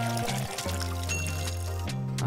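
Water poured in the Schedule 1 video game, a short trickling stream mixed beneath constant droning game music.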